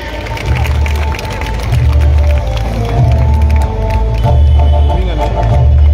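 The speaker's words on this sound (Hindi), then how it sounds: "जोरदार तालियां हो जाए भाई।" Audience at a Tipu Sultan Jayanti celebration and honouring ceremony in Kondhwa Khurd claps and cheers loudly and steadily, a dense crowd roar with booming low thumps throughout.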